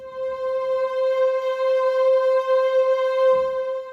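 A single sustained synthesizer tone swells in gradually, holds steady and bright, then fades away softly, with no voices.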